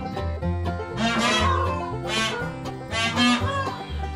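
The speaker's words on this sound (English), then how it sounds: "The birds are making that honking sound" Peacocks and geese call on a farm, their loud, harmonic honks and cries coming in overlapping bursts roughly every second with no talking.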